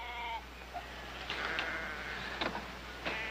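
Sheep bleat repeatedly in a western ranch scene, several wavering calls overlapping at moderate distance over a low steady background hum.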